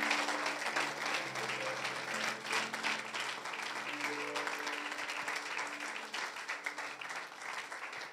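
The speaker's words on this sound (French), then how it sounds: "Tu peux bien acclamer Jésus" A church congregation applauds and cheers for Jesus, with dense sustained clapping and crowd voices filling the space at a steady level throughout.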